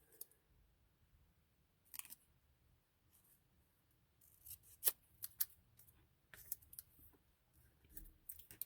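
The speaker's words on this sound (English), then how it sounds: "Can't cut a straight line even when the line is there" Scissors snip paper along a drawn line for paper craft stamps, heard as faint, sparse crisp clicks and snips in a quiet room, with a few sharper cuts clustered near the end.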